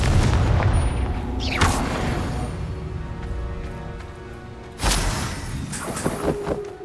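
A Confringo blasting spell explodes in the Hogwarts Legacy video game, giving a deep booming blast at the start followed by rumbling fallout and a second sharp burst.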